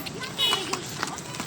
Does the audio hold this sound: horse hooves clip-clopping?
yes